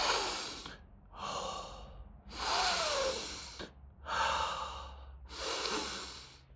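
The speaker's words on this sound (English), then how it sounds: "you put your nostril near the opening to the shampoo and you take 3 deep breaths" Deep breaths drawn in through the nose close to the opening of a shampoo bottle: five long sniffing inhalations in a steady rhythm, each separated by a brief pause, close and fairly loud with no talking.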